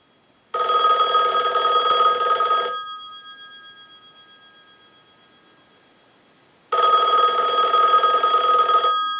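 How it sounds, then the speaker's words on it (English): The electromechanical bell of a Western Electric 500 rotary desk telephone, driven by a line analyzer, rings loudly in two bursts, about two seconds each, separated by a few seconds of quiet while the ring fades. "use the analyzer and send a ring cycle"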